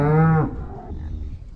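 A cow on a farm gives a single loud, close moo lasting under half a second, with calves nearby and quiet barn ambience after; no talking.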